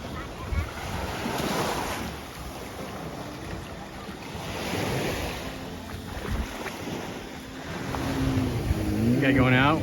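Waves wash onto a beach on Koh Larn Island, Thailand, in slow surges, with wind and a faint engine hum underneath.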